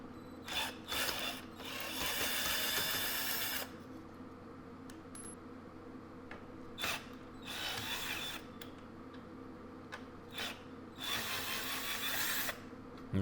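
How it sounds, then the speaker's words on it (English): Cordless Hiipoo drill with a screwdriver bit backing screws out of wood, several close whirring and ratcheting bursts separated by short pauses, with no talk. "throw on the screwdriver bit and just see if we can get this to unscrew pretty easily"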